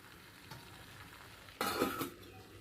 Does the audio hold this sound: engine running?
no